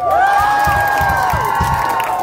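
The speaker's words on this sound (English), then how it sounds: "can we get a cheer for Aaron for being in the pit in that song?" A concert crowd at a live band show in a small club cheers and whoops loudly and continuously, shouts layered over a steady roar, close and dense.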